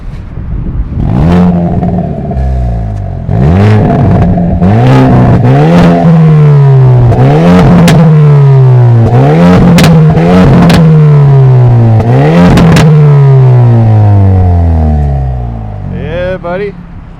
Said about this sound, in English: It gives backfire and pops and crackles and bangs.